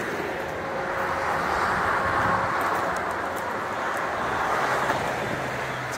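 Cars passing on U.S. Route 20 seen from a highway overpass ramp, a steady moderate roar of traffic with a vehicle's swell rising and fading at mid-distance.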